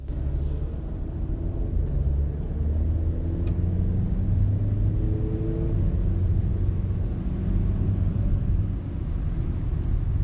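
Car on a test drive after a boost gauge install, a steady low engine and road rumble from inside the cabin with no talk.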